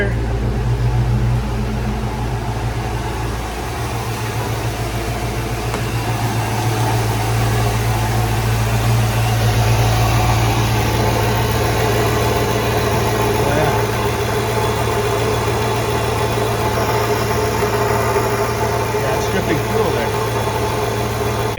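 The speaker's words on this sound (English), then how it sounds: "It starts up and idles good now." A Ford SN95 Mustang GT V8 idles steadily after a rebuild, a loud, continuous low rumble with a constant hum and faint ticking, close by and uninterrupted for the whole stretch with no talking.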